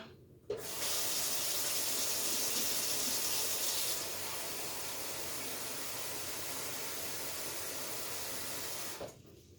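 A tap gushes water in a steady hiss for several seconds, its pitch shifting partway through, then cuts off abruptly.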